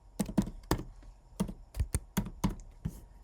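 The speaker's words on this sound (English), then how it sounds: "So you'll type in your password" Password typed on a computer keyboard: a quick, uneven run of about ten crisp key taps, close and clear against a quiet background, no voices.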